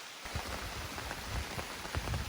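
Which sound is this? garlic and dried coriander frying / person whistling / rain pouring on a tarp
rain pouring on a tarp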